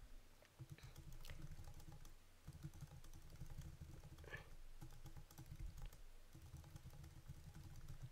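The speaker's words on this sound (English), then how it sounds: "I'm going to continue typing that." Faint, continuous keyboard typing with quick irregular key clicks over a low background hum; no one speaks.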